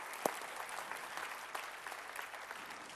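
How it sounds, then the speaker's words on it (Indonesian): Audience applause at a motivational talk, steady clapping at moderate to soft level, with one sharp, prominent clap near the start. "Tepuk tangan dong."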